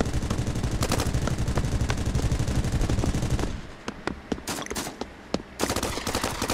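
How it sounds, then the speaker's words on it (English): Rapid gunfire in the Pavlov VR shooter, a dense continuous burst of shots for several seconds, then sparser single cracks and short volleys, loud and close. "Someone in the main building has seen me, and he's trying to take shots at me."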